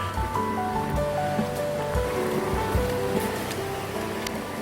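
Mountain valley stream water on Bukhansan during a rainy hike, a steady, full rushing flow heard close by, with some background music.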